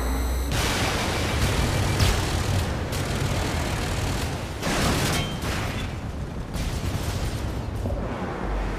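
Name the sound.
explosions and gunfire in the video game Warhawk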